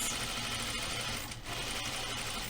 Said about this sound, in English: And then we're going to sew 3/8 of an inch seam again